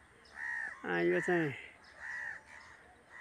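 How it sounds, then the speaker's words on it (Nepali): Crows caw loudly near their nest: several harsh, close calls in quick succession, with a person speaking briefly between them. "यहाँ कागहरू आइसक्यो"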